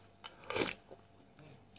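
Close-up chewing of a chicken heart taken from soup, one short burst of wet, crunchy mastication near the middle with faint mouth sounds after, no talking.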